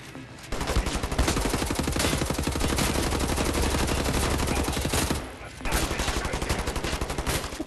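Sustained machine gun fire in the Wolfenstein video game on PS4, a rapid unbroken burst of loud shots lasting several seconds, briefly pausing before another burst resumes.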